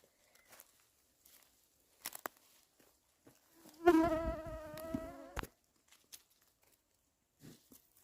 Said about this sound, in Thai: อุ้ยยุงเยอะจังเลย